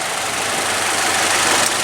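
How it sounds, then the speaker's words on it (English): A Scion FR-S boxer engine with direct injection and dual overhead cams runs at a steady, loud, close drone, with no pauses across the short stretch. "And the boxer engine in its nature is very sporty."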